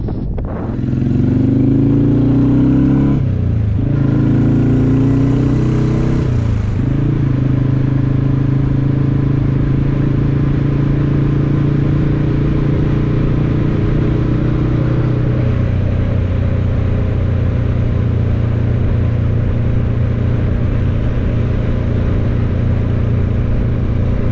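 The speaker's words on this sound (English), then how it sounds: "I'll give you a bit more bike ride down the hill here" Motorcycle engine running steadily as the bike rides downhill, loud and close throughout, with a gear change near the start and the engine note dropping partway through.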